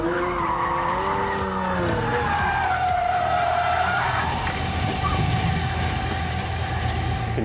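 A Pagani Zonda F Roadster is driven hard round a corner, its engine roaring loud and close as the tyres squeal and skid through the bend, with no talking.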